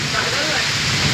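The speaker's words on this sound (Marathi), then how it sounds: "थांब जरा पाऊस जाऊन दे" Rain pours steadily over a Konkan village, a dense, even hiss of falling water that stays constant and close throughout, with no voices heard.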